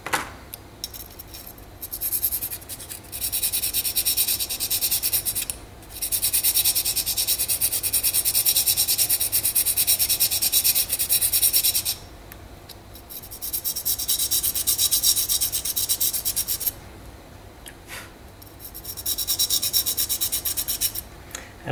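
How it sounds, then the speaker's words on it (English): Steady rasping of sandpaper scraped back and forth across a part of a Hiller 450V2 model helicopter, in long strokes broken by short pauses, close and fairly loud. "Now for people who don't have a flat file, use a sandpaper."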